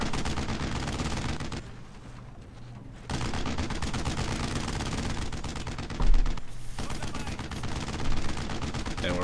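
Sustained rapid gunfire in the World War II shooter game Brothers in Arms: Road to Hill 30, dense loud volleys that drop away briefly twice before resuming, with a heavy blast near the middle.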